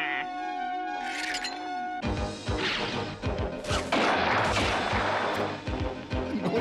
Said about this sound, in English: So the explosion noises